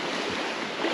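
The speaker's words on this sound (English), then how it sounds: "The waves are going to throw me over." Waves wash steadily against a fishing boat on the St. Francis Floodway at Burnt Cane, Arkansas: a continuous close, loud rush of water with gusting wind noise across the mic and no speech.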